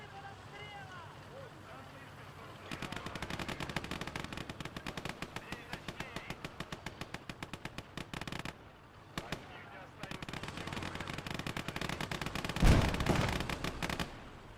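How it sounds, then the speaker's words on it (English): A Lafette machine gun fires in a Soviet heavy tank video game, long rapid bursts of even automatic shots repeating close and steady, with a brief pause midway and a louder blast near the end. "Still that Lafette machine gun."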